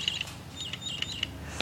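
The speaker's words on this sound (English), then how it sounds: "This is her and the chirping parakeet." A pet parakeet gives a quick series of short, high, sharp chirps close by, scattered unevenly over a faint low background hum, with no talking.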